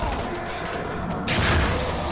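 Sustained gunfire from video game guns, a dense continuous fusillade that swells louder partway through, with some background game noise.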